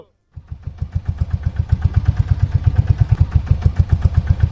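Cartoon boat engine starting, then settling into a loud, steady, fast chugging putter close by.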